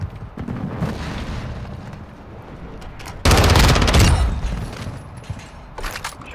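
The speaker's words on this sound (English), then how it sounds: "Our mortar strike is inbound." Mortar strike explosions in a video game, heard amid rapid automatic gunfire crackling in bursts, with one sudden loud, sustained blast and rumble partway through before the firing thins out.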